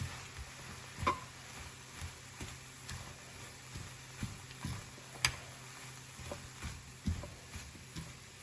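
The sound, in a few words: sautéing leeks, carrots, beans, egg, mutton and onion in pan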